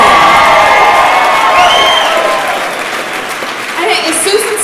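Audience at an awards ceremony cheers and applauds heartily, thick clapping mixed with whoops and shouted voices, easing slightly midway and then swelling again with scattered calls.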